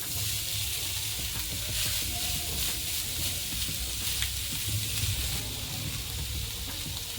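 Boiled chicken frying in a pan with ginger, garlic, onion and chili for crispy chicken flower, giving a steady, close, even sizzle with no one speaking.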